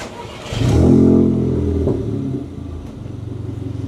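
A VW Polo engine with a straight exhaust turns over and catches, revving at about a quarter throttle to a loud rumbling roar before settling into a steady, throbbing idle.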